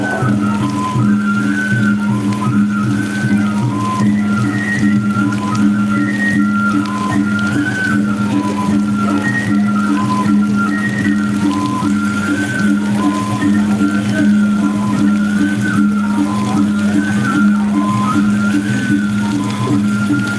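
Steady heavy rain hisses continuously over an outdoor Peresean stick-fighting event in Narmada, Lombok, with a low rumbling drone underneath and faint chirping tones recurring in the background.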